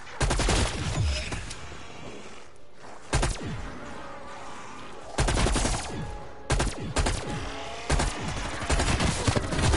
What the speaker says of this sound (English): If I reload, you shoot.